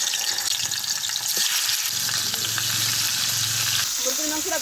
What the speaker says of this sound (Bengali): তৈলটা গরম হয়ে গেছে, মুরগির মাংসগুলো দিয়ে দিই।